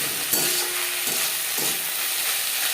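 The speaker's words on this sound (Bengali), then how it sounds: "কাঁচা গন্ধ যাওয়া পর্যন্ত নাড়াচাড়া করে নেব।" Onion, ginger and green chili paste is stirred in a pan for an aar fish curry, with a steady close sizzle and hiss broken by a few soft scraping strokes of the spoon.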